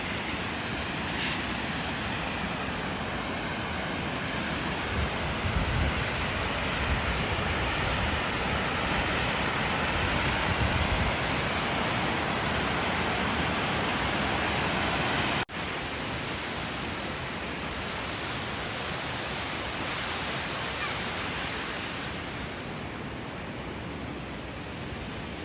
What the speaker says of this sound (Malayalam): നല്ല സൗണ്ടായിരുന്നു വെള്ളം ഇങ്ങനെ വീഴുന്നത്